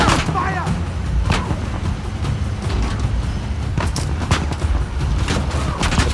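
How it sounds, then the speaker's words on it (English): Enemy gunfire in Uncharted: The Lost Legacy rattles out in repeated close, loud bursts and single cracks over a dense rumbling battle background, with no pause across the stretch. "They're firing at us."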